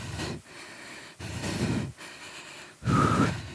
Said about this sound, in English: Keep that breathing under control.